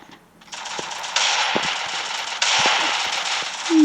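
Rapid gunfire in the mobile shooter game Free Fire, bursts of automatic shots crackling over a dense, loud game soundscape that swells in steps, with no talk.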